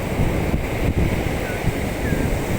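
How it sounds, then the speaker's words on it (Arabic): High sea waves breaking on a beach give a loud, constant roar of surf mixed with gusty wind buffeting the microphone, steady throughout with no clear individual crashes. "القعده على البحر جميله برضه، يعني رغم ان هو موجه عالي"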